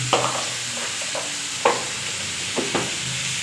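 Spiced brinjal bharta being stirred in a pan, giving a few distinct scraping clicks of the spoon over a steady low frying hiss, with no talking.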